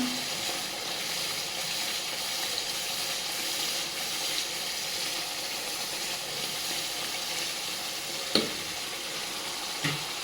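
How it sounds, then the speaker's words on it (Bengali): Chicken masala with cumin and coriander powder frying in a pan for a tomato chicken curry, a continuous even sizzle with stirring and a couple of sharp utensil knocks near the end. "মশলাটা আমি ভালো করে কষিয়ে নেব এখন জিরা ধনের গুঁড়াটাও আমি দিয়ে দিলাম"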